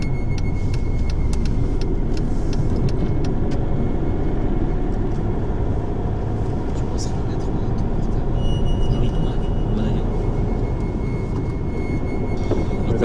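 Car interior drive during a nighttime investigation in Palavas-les-Flots, with a steady low engine and road rumble running loud and continuous throughout, faint tonal hum above, no talk.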